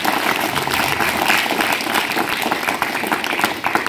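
Loud, dense audience applause fills a sweater distribution event as a speaker asks for a big round of clapping to welcome and honour a guest; continuous clapping with no speech over it.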